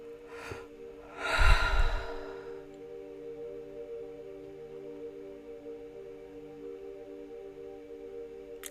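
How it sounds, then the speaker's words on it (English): A person takes deep breaths: one soft breath, then a longer loud exhale close by. A faint steady tonal drone stays underneath afterwards. "Just take a couple of deep breaths in."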